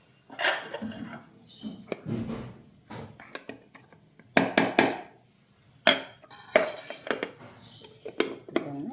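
Garlic, ginger and green chilli being crushed for shrimp cutlets, heard as irregular knocking and clinking of utensils in a kitchen, with bursts of pounding alongside a talking voice.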